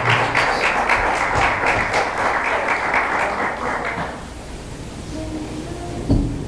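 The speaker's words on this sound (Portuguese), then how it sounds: "Dê uma salva de palmas para Jesus" A church congregation gives a sustained round of applause, loud and dense for about four seconds before thinning out and fading to quiet room tone.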